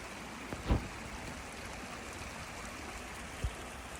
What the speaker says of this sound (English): And then just the sounds of the creek coming through.